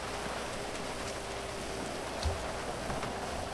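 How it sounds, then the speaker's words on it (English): Rain in the video game GTA 5 Online falls as a steady, moderate hiss with a faint low hum underneath, continuous and without voices. "Oh, dear, it's raining."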